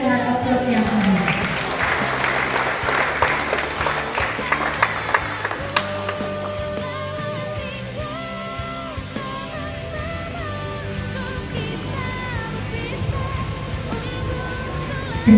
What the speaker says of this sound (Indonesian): Mari kita iringi dengan aplaus yang hangat